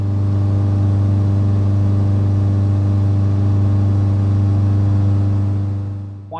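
Cirrus light aircraft engine in a climbing left turn over a lake, a loud, steady droning hum with a strong low tone that holds evenly throughout, easing off only at the very end.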